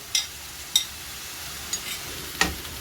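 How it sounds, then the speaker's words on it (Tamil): A spatula scrapes and knocks against a frying pan while idiyappam kothu is stirred and mixed, four sharp separate strokes over a faint, steady sizzle, close and with no talking. "இப்போ நல்லா மிக்ஸ் பண்ணிக்கோங்க"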